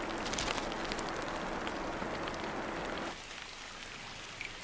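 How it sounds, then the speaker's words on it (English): Monsoon rain falling on a forest on Christmas Island, a dense steady hiss of drops for about three seconds that then drops to a softer, thinner patter. "That call comes with the first of the monsoon rains."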